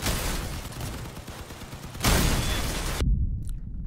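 In Crossout, a vehicle fitted with a lightweight shotgun and a medium machine gun fires a sustained, loud, rattling volley that jumps to a heavier burst near the end and then cuts off abruptly.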